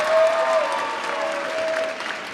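Audience at a high school graduation ceremony applauding honored students, a sustained wash of clapping from a crowd in a large hall, steady and moderately loud.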